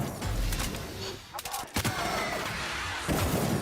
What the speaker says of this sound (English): I'm gonna try my sniper rifle.